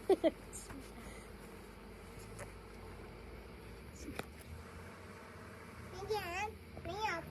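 A steady buzz of honeybees hums in the background, close and persistent, while people talk quietly over it.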